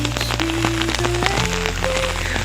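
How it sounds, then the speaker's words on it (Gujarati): Heavy rain falls in a village with a dense, steady hiss of drops, broken by some faint tonal sounds in the background. "બાકી આમ જો વરસાદ સોતરા પાડે."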